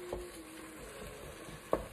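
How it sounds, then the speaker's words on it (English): Ground turkey frying and being stirred in a pan for taco soup, a steady low sizzle with a sharp utensil scrape against the pan near the end, close and fairly quiet. "keep stirring that stuff up"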